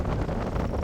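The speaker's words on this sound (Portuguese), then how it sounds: "tá um vento gelado. Tá forte o vento" Strong, cold seaside wind buffets the microphone in a low, continuous rumble with uneven gusts, close and fairly loud, with no other clear sounds.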